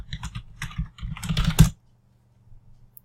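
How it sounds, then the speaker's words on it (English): Quick, close bursts of computer keyboard typing as Elementor is entered into a WordPress plugin search, in short clusters that stop after about a second and a half, followed by near silence. "I'll type in Elementor into the plugin search."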